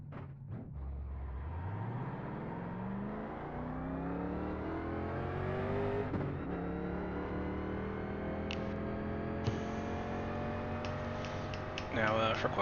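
A 1987 NASCAR stock car engine in iRacing sets out on a qualifying lap at Auto Club, revving up through repeated gear changes into a sustained high drone, with a voice talking faintly underneath.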